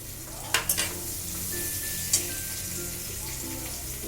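Chopped onion frying in a pan with bay leaf and whole garam masala for egg curry, a constant crackling sizzle punctuated by a few sharp utensil knocks.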